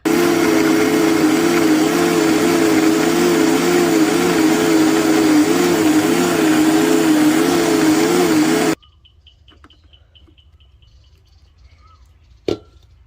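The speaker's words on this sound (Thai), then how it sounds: "เดี๋ยวเรามาปั่นกันต่อนะคะ" A blender whirs loudly and steadily for several seconds blending lemongrass for a chicken marinade, then cuts off abruptly, leaving near silence and a brief clunk.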